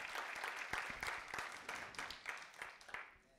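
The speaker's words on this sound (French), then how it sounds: "Est-ce qu'on peut applaudir cet homme, s'il vous plaît" A church congregation applauding, a modest spread of claps with distinct individual hand strikes standing out, fading toward the end; quiet and somewhat distant.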